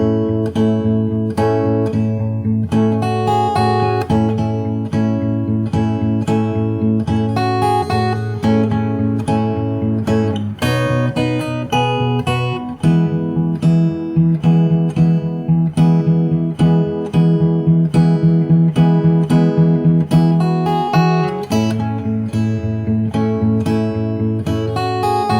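Fingerstyle acoustic guitar plays the chorus of a song, sustained chords with plucked bass notes and steady strummed attacks, close and clear with no talking.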